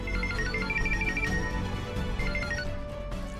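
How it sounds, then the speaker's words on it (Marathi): A phone ringtone rings on and off in a repeated melodic pattern, fairly loud against a busy indoor background at night, with no talking over it. "अगं काय, किती वेळ रिंग वाजतेय?"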